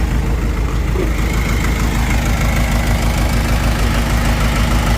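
The 4D102 diesel engine of a Komatsu WA150-5 wheel loader idles steadily nearby, a loud, even low rumble with a faint knocking pulse and a continuous whine above it.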